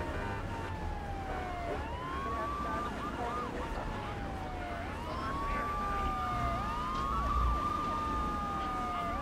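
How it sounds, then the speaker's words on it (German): Wailing ambulance siren in the video game Grand Theft Auto III, rising and falling in repeated sweeps over a low engine rumble and street ambience, fairly prominent in the mix. "Ach, das sind Krankenwagen hier."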